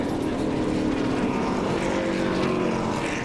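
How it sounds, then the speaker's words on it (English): A NASCAR Nationwide race car engine at Watkins Glen, running on seven cylinders, gives a loud, continuous roar with a rough, uneven tone, steady throughout with a low rumbling beat underneath. "I think he might be on 7 cylinders."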